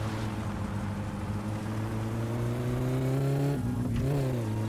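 An engine in the video game My Summer Car revs steadily for several seconds, a loud continuous drone that climbs slightly in pitch before dipping and recovering near the end, with no talk over it.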